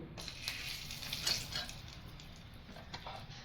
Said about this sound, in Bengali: এবার ওই কড়াইতেই কিছুটা সাদা তেল দিয়ে দুটো শুকনো লঙ্কা ফোড়ন দেবো